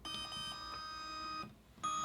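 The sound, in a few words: Yongnuo YN560 III speedlite flash beeping when turned on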